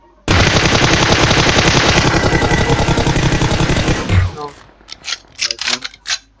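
M4 rifle in a shooter video game firing one long rapid automatic burst at close range, loud and continuous, followed by a few scattered shots and clicks as it stops.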